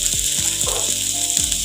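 Onion and green chilli fry briefly in a pan for carrot poriyal, a steady bright sizzle with faint tonal background sound underneath.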